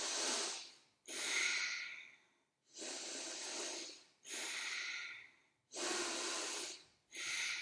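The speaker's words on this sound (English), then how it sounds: "Inhale from the nose and exhale from the nose." Six forceful nasal breaths of Bhastrika yoga breathing, alternating inhales and exhales through the nose, each a loud, close, airy rush lasting about a second with brief pauses between.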